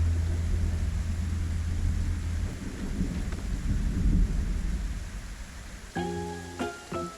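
Rain and thunder in the Project Zomboid video game: a steady hiss of heavy rain with low rolling rumbles, joined near the end by a few short, tonal bright sounds.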